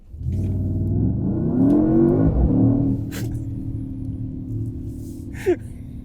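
A 2024 Mercedes-AMG GT 63 S engine revs up sharply and climbs in pitch as the car accelerates, then settles into a steady, loud cruising drone with a brief later whoosh.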